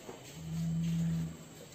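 A single low, sustained moo from a Peranakan Ongole (PO) cow rises and fades, fairly faint against quiet outdoor background.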